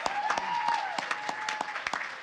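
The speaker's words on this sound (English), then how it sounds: "I think we should give another round of applause to Fangoria and all the guys here" Audience applause at a horror fan event honoring the magazine Fangoria, a moderate wash of scattered clapping with distinct individual claps, a voice heard faintly.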